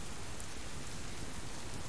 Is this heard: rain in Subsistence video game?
yes